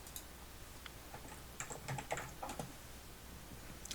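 Faint, sparse clicking of a computer keyboard during photo-editing work, a few scattered keystrokes over a steady low background hum with no talking.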